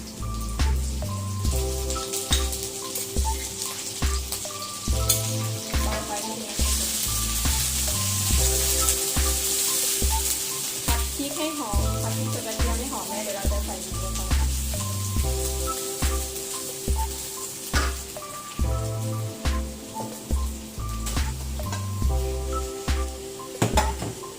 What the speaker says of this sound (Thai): ใส่พริกลงไปเลยค่ะ ผัดพริกให้หอมก่อนนะคะ